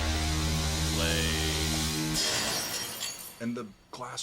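A glass-breaking effect crashes loudly within a dense metal song with steady drumming and bass, the shatter smearing into bright noise before the music thins out.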